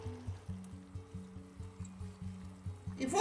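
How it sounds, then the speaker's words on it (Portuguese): Water poured into a pot of meat being cooked in a pressure cooker, a steady close pour with a rhythmic glugging pulse, ending in a brief louder splash. "E vou colocar mais um pouco de água. 200 ml de água aqui."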